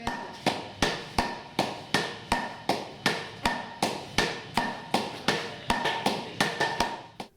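Solid gold being beaten into thin gold leaf in Myanmar, a steady run of sharp, loud hammer strikes about every third of a second that quicken into a faster cluster near the end, with no voices.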